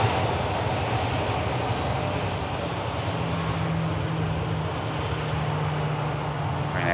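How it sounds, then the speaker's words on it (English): A Ryanair airliner taxiing past at Manchester Airport in the rain, a loud steady jet engine roar and rumble holding evenly throughout. "Ryanair taxis past us."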